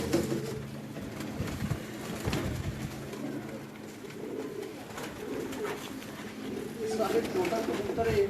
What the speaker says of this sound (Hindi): सारे छोटा कबूतर है जो है ना